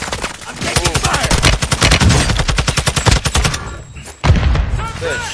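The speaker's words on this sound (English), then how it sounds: "I'm taking fire!" Sustained loud automatic gunfire in the video game Warzone, a fast regular stream of shots that lasts about three and a half seconds, then a short gap and another burst.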